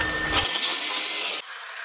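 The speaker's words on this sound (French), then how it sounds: "Aujourd'hui, on remet ça avec le carottage à sec." Dry core drilling, a loud continuous grinding whine of the core bit biting into the material, close up and uninterrupted, with a slight shift in tone partway through.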